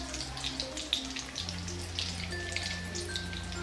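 Beef cutlets coated in breadcrumbs fry in hot oil, giving a steady close crackle and sizzle with scattered pops and no talking.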